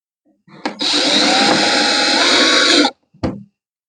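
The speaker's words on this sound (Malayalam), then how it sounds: "ഏതെങ്കിലും ഒരു ഭാഗത്ത് സ്ക്രൂ ചെയ്യുക." Power drill whirring steadily for about two seconds as it drives a screw into a clamp on a scooter body, followed by a brief second burst, close and loud with no talk.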